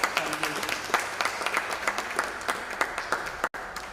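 Audience applause for sponsors at the Barbados Secondary Schools Athletic Championship, a sustained patter of many hands clapping with sharper individual claps standing out, loud and continuous, briefly cut out near the end.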